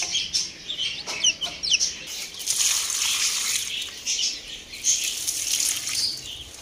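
Hens clucking and chicks peeping nearby, a busy overlapping chorus with a steady background hiss like running water.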